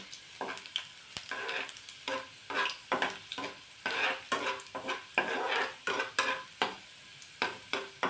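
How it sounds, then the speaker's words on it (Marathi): Thinly sliced garlic fries in oil in a pan, a soft sizzle under repeated close scraping strokes of a spoon or spatula stirring against the metal in a steady rhythm. "लसूण छान असा तळून घ्यायचा आहे तेलामध्ये"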